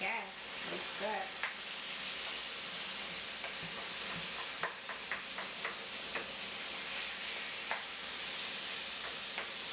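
Around a pound of ground beef fries in a pan on a stove, a steady loud sizzle with spatula scrapes and ticks as it is stirred, and brief voices early on.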